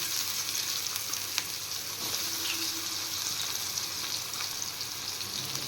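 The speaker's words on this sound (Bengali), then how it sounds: "এবার আমি এই তেলে কিছু পেঁয়াজ ভেজে নেব।" Chopped onions fry in hot oil left from frying fish, a loud, dense, unbroken sizzle close up with a faint scrape or two, no talking.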